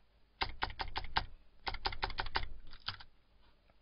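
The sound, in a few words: pressing arrow keys on a computer keyboard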